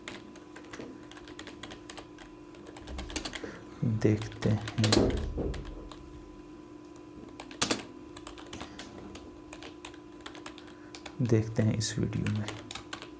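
Computer keyboard typing while making a professional YouTube thumbnail, with bursts of keystrokes clustering around a few seconds and again near the end, under someone speaking throughout.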